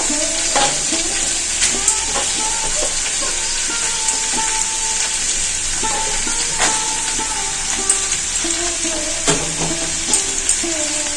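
Shukto vegetables with drumsticks and beans are stirred in a pan, a soft simmering sizzle broken by repeated close scrapes and knocks of a spoon against the metal. No one talks.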